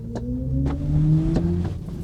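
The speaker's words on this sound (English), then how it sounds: "the car sounds like a spaceship accelerating forward" A BMW iX3 electric SUV plays its synthetic acceleration sound, a smooth rising electronic hum with steady tonal layers under faint ticks, heard briefly with no talking.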